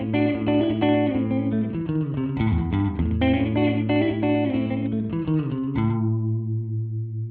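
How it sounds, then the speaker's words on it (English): A distorted electric guitar plays a steady riff through a stereo delay pedal set just under 125 milliseconds, a short, snappy slapback echo trailing each note, ending on a ringing chord. "We can go just under 125 milliseconds for slapback."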